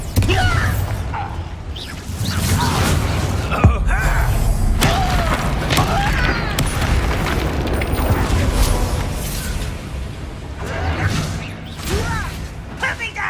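Bombarda explosion spells cast in a boiler room in Hogwarts Legacy, loud booms and whooshing magical bursts repeating over a rumbling background, with voices shouting spell names and talking over them.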